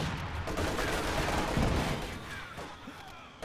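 Gunfire crackles in a video game infantry battle, a dense burst of shots and distant blasts at moderate distance, fading toward the end.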